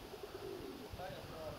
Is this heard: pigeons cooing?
yes